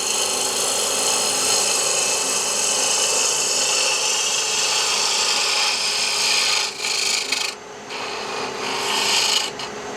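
A woodturning gouge takes a fine cut on a lathe: a steady, close, continuous rasping shaving sound that holds level and then dips and wavers briefly near the end, with no talking.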